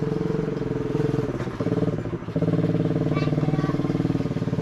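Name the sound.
kids riding a four-wheeler ATV nearby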